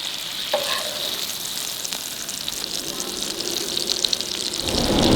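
Oil sizzles and crackles steadily as smoked beef fries in a pan, with a brief clink early on and the sizzle swelling louder toward the end.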